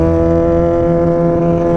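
A Yamaha MT-09 motorcycle engine runs loud and close in a steady, sustained drone with strong even harmonics, holding near-constant pitch throughout with no voices.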